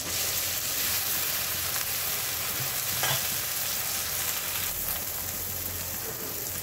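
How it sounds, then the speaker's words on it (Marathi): Soaked puffed rice and tomatoes stir-fried in a pan: a steady, close sizzle runs throughout, with a spatula scraping and turning the mixture now and then. "आणि त्याला छान परतून घ्यायचं आहे"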